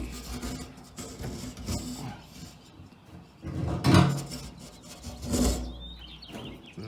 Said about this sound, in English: I just scraped that off with my nail.